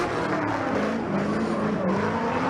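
Augmented Racing BMW E36 drift car at a Formula Drift round, engine roaring loud and steady with rasping exhaust and tire noise throughout, sustained and close.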